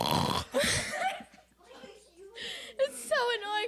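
A person vocally imitates a dog snoring, making rough, breathy snorts and wheezy gurgles in a few bursts, loud and close, with laughter-like breaths between.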